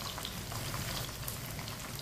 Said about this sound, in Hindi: थोड़े से बादाम डाल लेंगे।